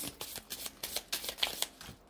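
A tarot card deck being shuffled, with a quick series of close, crisp riffling flutters and soft slaps for about two seconds, heard alone.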